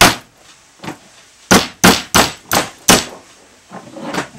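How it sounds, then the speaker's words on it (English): Hammer strikes on a metal punch setting an eyelet: a few softer taps, then a run of five loud, sharp blows in steady rhythm, followed by a couple of lighter knocks, close up. "Hammer firmly."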